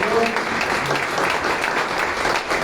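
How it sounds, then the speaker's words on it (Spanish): A church congregation applauds during a service, with dense, sustained clapping that fills the room evenly from start to finish. "¿Puede usted darle un fuerte aplauso al Señor?"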